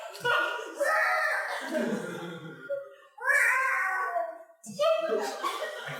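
A person makes yelping, cat-like vocal noises imitating a fox, several drawn-out cries with short gaps between them, close up.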